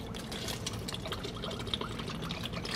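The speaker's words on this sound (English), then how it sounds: "But we are gonna use 2 ounces of pina colada mix." Pina colada mix poured steadily into a cocktail glass, a continuous close liquid stream splashing for about three seconds with no talk.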